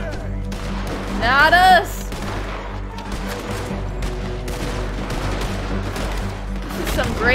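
Gunfire from the video game Red Dead Redemption 2 crackles in bursts over looping game music, with a brief louder volley near the start, while a player talks over it.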